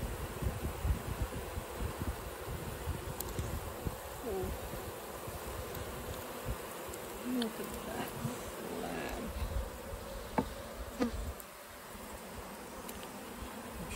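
Dense, steady buzzing of many honey bees close by, a continuous swarm drone with small knocks and rustles scattered through it, as a large honeycomb is cut out of a possum box.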